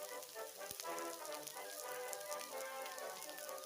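Steady rain falling in cold weather, a dense continuous patter of drops on surfaces throughout, with no voices.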